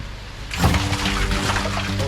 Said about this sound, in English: I think I can hear the concrete truck outside the front